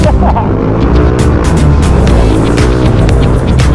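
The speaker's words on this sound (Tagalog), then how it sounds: "Ang iingay ng mga tambutso namin." Loud motorcycle exhausts rev hard as a group of riders heads into Marikina, making a close, aggressive, continuous roar with rising and falling throttle bursts.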